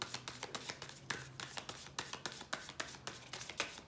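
Soft, rapid riffling of cards, a steady run of light papery clicks and taps close by, with no talking.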